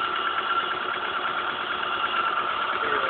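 Ford Mondeo engine, under repair after a crash, revving steadily with a constant mid-range drone and buzzing vibration for the whole stretch, close by, with no clear rises or drops.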